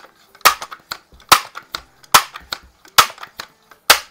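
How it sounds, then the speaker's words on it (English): Shots ring out across a garage, about seven sharp, loud cracks at irregular intervals, each followed by a short rattling echo and quiet between them. "we'll just take a couple of shots across the garage here"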